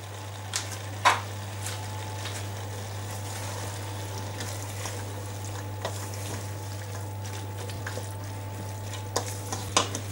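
Bell peppers, small carrots and onion sautéing in a pan, giving a low continuous sizzle over a steady hum, with a few scattered clinks and scrapes of stirring and no talking.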